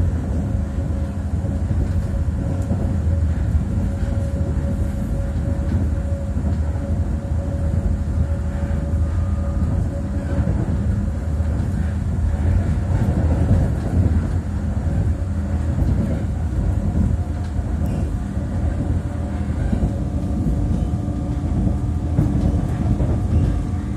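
Prykarpattia express train running from Stryi to Morshyn, a steady broadband rumble and rattle of wheels and carriage heard from onboard, continuous and even throughout.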